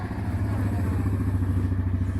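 A four-wheeler quad ATV engine runs at a steady idle, a continuous low rumbling drone with pulsing harmonics that stays constant and fairly close throughout.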